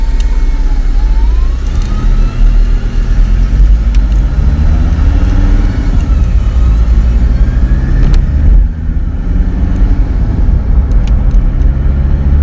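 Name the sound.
car driving and changing gear after engine rebuild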